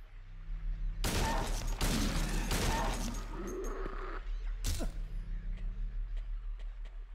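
Gunshots ring out in Silent Hill 2, with a burst of sharp, loud blasts close together followed by a single later shot, then quiet ambience with faint distant ticks.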